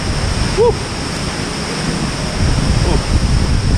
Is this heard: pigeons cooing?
no